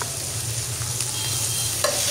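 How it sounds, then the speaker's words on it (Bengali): Ginger garlic paste sizzles steadily in a hot pan while being stirred, a continuous close frying hiss with soft scraping and one brief louder clink near the end. "আদা রসুনের পেস্ট দিয়ে একটু ভালোভাবে নাড়াচাড়া করে আদা এবং রসুন ভেজে নিচ্ছি"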